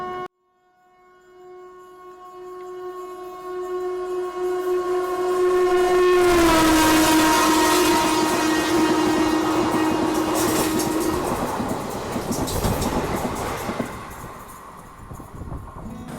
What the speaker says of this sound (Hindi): तो रतलाम उदयपुर पैसेंजर जो है वो आ रही है।